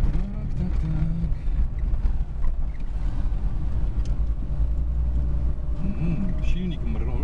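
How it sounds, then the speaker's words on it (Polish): A 1998 FSO Polonez Caro Plus engine hums steadily while the car drives in fourth gear, a low continuous drone with wind noise, heard under someone talking. "Silnik mruczy sobie tak raźnie"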